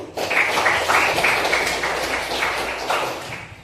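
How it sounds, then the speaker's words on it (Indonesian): Classmates in a school classroom clap together for a few seconds, a dense, fairly close patter of hands that carries on steadily before fading slightly. "Tepuk tangan kawannya."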